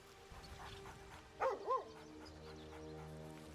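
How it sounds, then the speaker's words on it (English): A dog in the video game Baldur's Gate 3 gives two quick yips close together, faint and brief against a steady low game soundscape. "The doggy running around."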